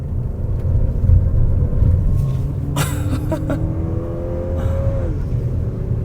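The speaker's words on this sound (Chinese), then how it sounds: "我们来过这个云顶最陡的坡，踩。" A new Lexus RX 350 on Bridgestone Alenza 001 tyres accelerates hard up a steep slope at Genting, its engine a heavy, continuous rumble with a rising mechanical whine heard from inside the cabin.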